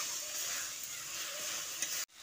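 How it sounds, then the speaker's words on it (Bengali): Potatoes and spices mixed with salt in a pan for a cauliflower and lentil dish, giving a soft continuous sizzle with faint stirring, fairly quiet and close, then cutting off abruptly. "নুনটা দিয়ে ভালো করে মিশিয়ে নিচ্ছি।"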